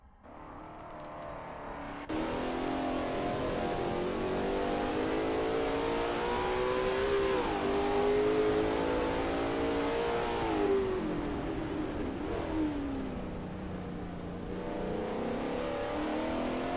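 Lola T70 MkII Spyder race car at Bathurst in a racing game, its engine revving hard and steadily through a qualifying lap, the pitch rising and falling with gear changes, loud and close, no talking.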